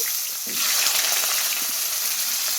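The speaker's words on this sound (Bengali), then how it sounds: "কিছু আলু কেটে ভাজতে বসিয়ে দিচ্ছি" Cut potatoes frying in a pan, a steady bright sizzle that holds constant close by, with no talk over it.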